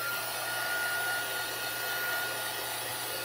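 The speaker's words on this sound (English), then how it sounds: "So I'm gonna take the heat tool to that real quick." A heat tool blows hot air onto paint, a steady, even whoosh of airflow like a hair dryer that holds throughout at moderate loudness with no talking.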